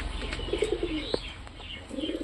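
Pigeons coo in soft, low repeated phrases close by, with a few faint chirps and light rustling from the birds around them.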